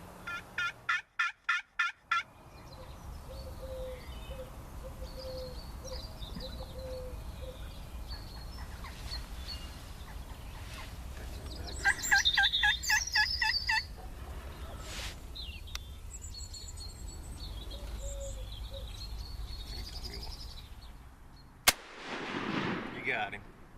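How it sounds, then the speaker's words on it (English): Wild turkey gobblers, locked up on a single hen across a small cove about 100 yards off, gobble in repeated loud rattling bursts amid outdoor ambience, with a sharp shotgun-like crack near the end. "gobblers are locked up on a single hen on the other side"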